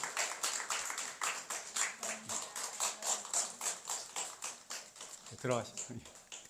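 Congregation at a church baptism service applauds in a steady, fairly faint patter of many hands, with a brief voice rising near the end.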